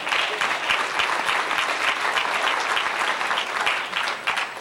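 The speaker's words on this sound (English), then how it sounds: "Thank you for those applause." Sustained applause from a crowded room at a 1991 St. Charles Speedway fan club banquet, steady and dense for the whole stretch without a break.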